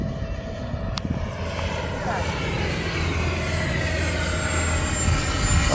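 An FMS F-86 80mm RC model jet flies overhead in shifting north winds during touch-and-go and landing practice, its ducted-fan engine whining steadily and building in loudness, with a few brief clicks near the start.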